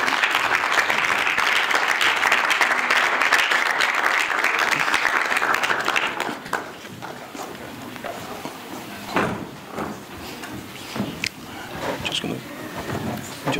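Audience round of applause at a live masterclass event, loud and sustained for about six seconds, then fading out into quieter room sounds and scattered movement.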